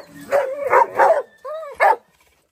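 A large dog barks repeatedly, four or five loud, close barks in quick succession with a short whine-like yelp among them.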